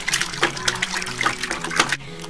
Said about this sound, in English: mix it up with this spoon so that we can get some air into